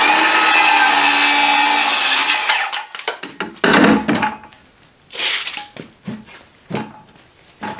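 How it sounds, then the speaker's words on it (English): A Hercules brushless circular saw makes a cross cut through wood: a loud, steady high whine for about three seconds, then it spins down and is followed by scattered knocks and clatter of wood and tool handling. "All right, let's do a cross cut real quick."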